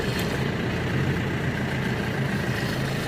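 A Mitsubishi MT24D Japanese tractor engine with a rotary tiller idles steadily close by, giving off a continuous low rumble with no revving.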